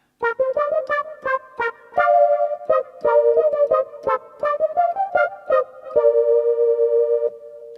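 A bright Yamaha PSR-SX900 keyboard voice plays a quick melodic line of short plucked notes, then a few held tones, loud and close with no talking.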